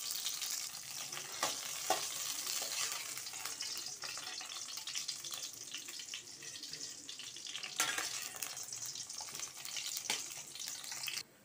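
Eggplant sautés in oil in a kadai, a loud continuous sizzle with stirring scrapes and clinks throughout, with no voices over it.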